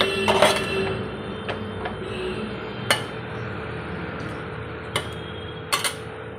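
A spoon stirs lalte greens with salt in a cooking pot, giving a few scattered metallic clinks and taps against the pot over a low, steady simmering hum. No talk.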